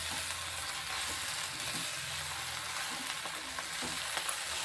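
Steady, close sizzling of drumstick (moringa) leaves frying in a hot pan, with occasional stirring scrapes, continuous throughout and no talking.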